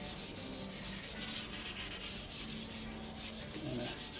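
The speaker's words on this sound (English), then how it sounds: "I got a 800 grit sandpaper." A guitar neck is hand-sanded with fine 800-grit sandpaper, steady rhythmic rubbing strokes close by, continuous and alone.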